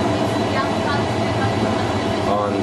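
A passenger train rolls along the rails between Lausanne and the rest of Switzerland, a steady, loud rumble with faint rhythmic clatter that holds evenly throughout, no voices audible.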